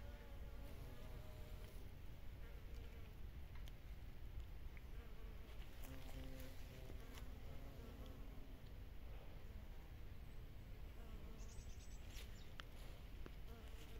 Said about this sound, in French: Il y a des abeilles et des bourdons partout.